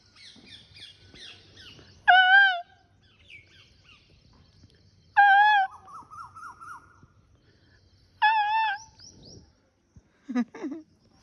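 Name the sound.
peacock calling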